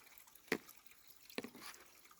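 Small trailside water source on the Appalachian Trail near Loft Mountain Campground, with two distinct drips or splashes about a second apart over a faint trickle, alone and fairly close.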